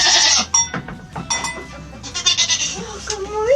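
Several goats bleat in quick succession on a small farm on a winter morning, loud and close, with short overlapping calls and a person's voice murmuring softly between them.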